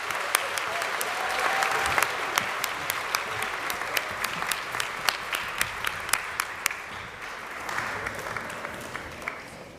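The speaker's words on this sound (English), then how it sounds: "could we have one more round of applause for all of our inductees?" A crowd at a high school Wall of Fame ceremony gives a sustained round of applause for the inductees, steady massed clapping with a few sharper individual claps standing out.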